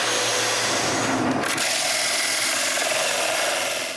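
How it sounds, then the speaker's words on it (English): Sandpaper is held against a spinning wooden cup on a lathe to remove excess glue, making a steady, loud broadband hiss over the lathe's whir throughout. "I begin by sanding the excess glue on the outside."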